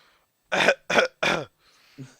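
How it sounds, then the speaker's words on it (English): Three sharp coughs in quick succession, close and loud, followed by a faint breathy rasp and a short low grunt. "Sorry, I get a cough."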